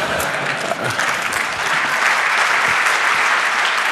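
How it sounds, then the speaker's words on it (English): Loud, continuous applause from a large conference audience at a Tor talk, a dense crackle of many clapping hands that stays steady and close for the whole stretch. "All of those people clapping"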